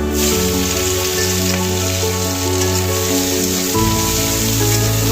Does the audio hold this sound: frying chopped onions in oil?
yes